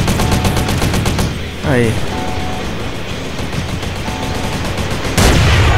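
Gunfire in a GTA San Andreas SWAT vs Army deathmatch mod: a loud, rapid string of shots at the start, a quieter stretch, then another heavy blast near the end, with a voice briefly exclaiming.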